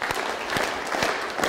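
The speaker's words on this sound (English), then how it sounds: "Simon Says, clap your hands" An audience clapping during a Simon Says game at a keynote, with steady, fairly close group handclaps and a few sharper individual claps standing out.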